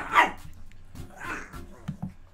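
Several dogs indoors give a loud opening bark followed by quieter yips and whimpers, scattered over a couple of seconds, close to the listener.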